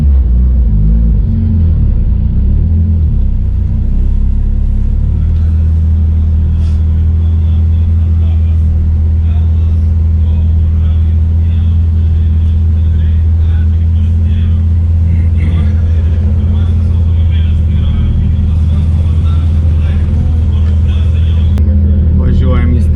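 Rally cars idle and creep toward the start arch at a rally event, a loud, steady low engine rumble close by that swells slightly partway through, with speech over it.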